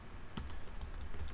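Rapid typing on a computer keyboard, a steady run of close, crisp key clicks with no talking.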